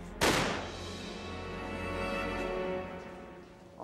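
A single loud gunshot from a military test firing reversed ball ammunition at a tank, a sharp close blast followed by a long rumbling decay.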